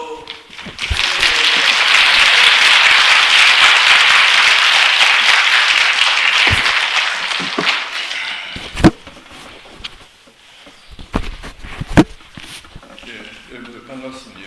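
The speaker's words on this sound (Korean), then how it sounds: "박수" An audience at a lecture hall talk gives sustained applause, a dense wash of many hands clapping for several seconds that gradually fades to scattered claps, shuffling and thumps.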